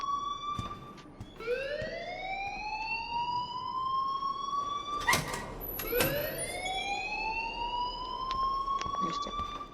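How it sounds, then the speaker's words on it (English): An electronic alarm blares in the video game Life is Strange, a loud rising siren-like wail that sweeps up repeatedly, with a faint voice in the background. "please turn off that alarm since that's your job."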